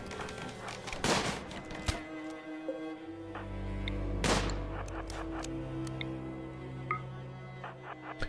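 Bursts of gunfire from a RimWorld firefight during a town siege, two heavy rattling volleys followed by scattered sharper shots and a lingering low rumble, loud and close.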